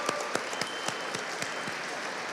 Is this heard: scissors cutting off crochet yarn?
no